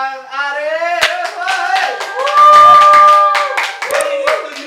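Sharp, scattered claps from a studio audience welcome Bang Arif on an Indonesian talk show. The claps cut through a loud, sustained musical tone that dominates the background.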